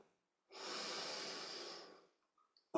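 A single slow, steady inhaling breath during a kundalini yoga session, close and soft, swelling for about a second and a half before trailing off into quiet.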